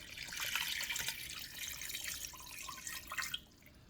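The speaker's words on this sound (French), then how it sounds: "Et ensuite, rajoutez un demi-litre d'eau." Half a litre of water poured into a pot of paprika and red-pepper sauce with chicken: a steady, close splashing pour that stops abruptly near the end, fairly quiet, with no talking.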